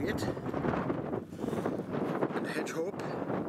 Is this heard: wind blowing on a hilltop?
yes